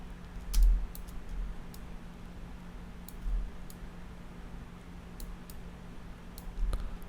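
Sparse computer keyboard key presses and clicks at a desk, a few isolated taps spaced seconds apart over a low steady hum, no talking.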